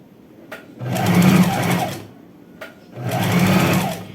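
A sewing machine closes the waistband of a pair of shorts in two loud, steady runs of stitching, each about a second long, separated by a short pause and a click, with no talk.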